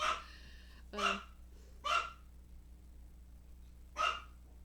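A chihuahua gives four sharp, high-pitched barks spaced about a second apart, close and otherwise quiet apart from faint breathing.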